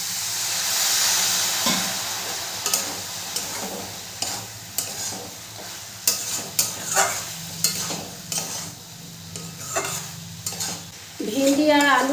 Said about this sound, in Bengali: ভেন্ডি আর আলু মশলার সাথে খুব ভালো করে কষানো হয়ে গেছে।